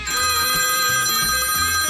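A telephone rings with a loud, continuous electronic trill, with bursts of ringing repeating at an even pace and no talking over it.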